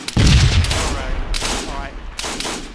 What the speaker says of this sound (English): Tank's firing!